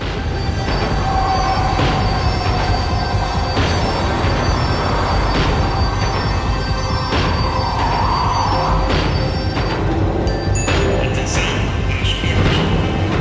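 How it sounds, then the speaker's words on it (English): A tram in the video game Max Payne 3 rumbles and clanks along, a steady mechanical roar with rattles and a rising whine as it slows. "The tram was slowing down"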